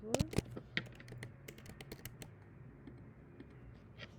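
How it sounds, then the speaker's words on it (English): A password being typed on a computer keyboard, heard as a quick burst of close key clicks at first, then sparser, fainter taps. "It is asking for password, so let me enter my password."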